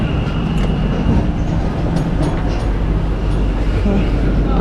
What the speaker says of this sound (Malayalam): ട്രെയിൻ സ്റ്റാർട്ട് ചെയ്തു.